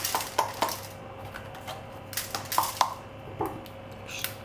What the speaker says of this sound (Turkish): Hemen biberleri de doğrayayım.